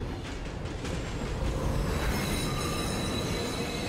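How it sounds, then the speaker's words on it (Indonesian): A loud out-of-control train roars continuously, wheels grinding and squealing on the rails with a steady rumble, in the film Jung E. "Kereta juga makin tidak terkendali."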